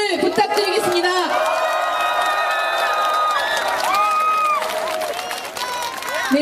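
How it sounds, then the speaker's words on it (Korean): A crowd at an outdoor political press event in Pyeongtaek applauds and cheers in welcome, steady dense clapping with some whoops lasting throughout, fairly loud and close, with a voice over a loudspeaker layered on top. "뜨거운 환영의 박수를 부탁드리겠습니다."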